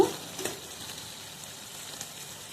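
Raw chicken sizzles in a pan with tomato and yogurt masala for chicken biryani, a steady hiss with soft scraping and stirring knocks near the start.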